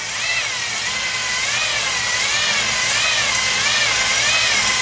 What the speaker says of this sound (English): A little faster on the drill.